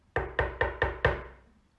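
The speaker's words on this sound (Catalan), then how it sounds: "Va tocar a la porta." Five sharp knocks in an even rhythm on a door, as the wolf knocks at the smallest pig's house, close and loud, with no talk over them.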